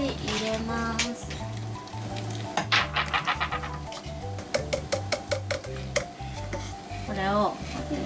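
Garlic dropped into a hot pan for a cream pasta, giving a close sizzle with clatters of utensils against the pan, while voices talk over it throughout.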